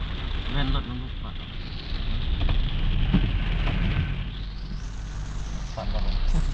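Heavy rain pours steadily in Vientiane, Laos, a dense, loud hiss of drops hitting surfaces close by, with a few louder splashes mixed in.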